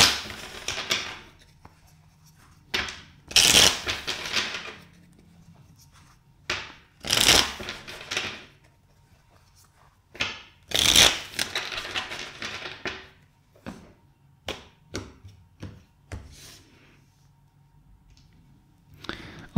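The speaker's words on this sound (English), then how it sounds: "let's shuffle four times" Tarot cards are shuffled by hand in several separate rounds. Each round gives a crisp, close riffling burst, with quieter handling taps and pauses between them.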